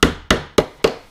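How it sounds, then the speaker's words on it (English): A tack hammer drives a tack into a wooden beehive frame with four sharp, evenly spaced taps, close and loud, with no talk. "tack hammer it in there."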